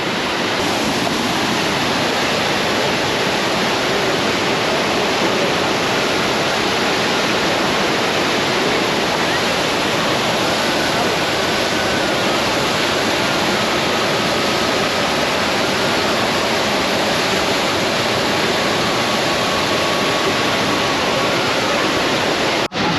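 The Jamjir waterfall on a river with three falls pours in a loud, steady rush of water. The broad, even roar holds close and unbroken from start to finish, with no voices.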